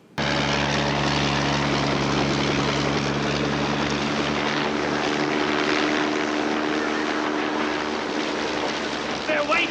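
A loud, steady helicopter rotor and engine roar from a film scene fills the whole clip, constant and close, with a faint voice briefly audible near the end.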